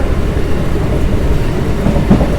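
The Diva–Roha MEMU train travels along the Konkan rail route in heavy rain, giving a steady, close rumble of wheels and carriage noise throughout with no voices.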